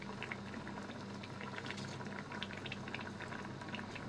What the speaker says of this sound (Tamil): இப்போ இதை நம்ம நல்லா க்ளோஸ் பண்ணி 10லேருந்து 15 நிமிஷம் வரைக்கும் கொதிக்க விட்டுக்கலாம் சிம்லையே.